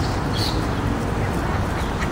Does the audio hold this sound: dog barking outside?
no